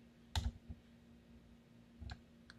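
A computer mouse is clicked while a DNS record is added on a domain settings page. A few faint, sharp clicks come in two small clusters against a quiet background with a low steady hum.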